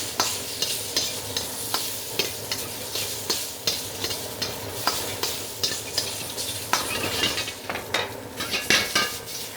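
Shrimp frying in a hot pan while being stirred, cooked for pad see ew: a steady sizzle with repeated rhythmic scrapes and clinks of a utensil against the pan, close and fairly loud.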